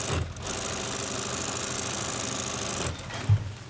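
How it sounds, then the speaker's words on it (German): A sewing machine stitching parachute fabric, running in a steady fast mechanical whir for about three seconds between short pauses, close and clear with no voices. "An der Nähmaschine geht's weiter."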